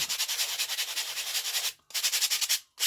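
Hand sanding of a wooden case for a jaw harp, a steady raspy back-and-forth rubbing with rhythmic strokes, close and fairly loud, broken by two brief pauses near the end.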